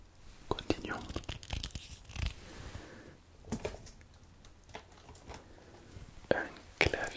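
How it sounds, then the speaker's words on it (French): Soft, irregular clicking and tapping of keys on a computer keyboard, close and quiet, in uneven bursts with short pauses. "Un clavier."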